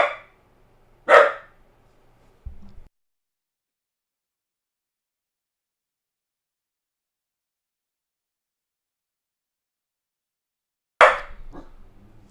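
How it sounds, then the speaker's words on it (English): A dog barks in two short bursts, one at the start and another near the end, separated by a long stretch of silence, with the barks sounding fairly close. "What are we barking at?"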